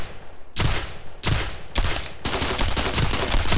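Gunfire from a multiplayer shooter template built in Unreal Engine 4: loud, close synthetic gun blasts, four separate shots in the first two seconds, then a dense run of rapid fire with no talking.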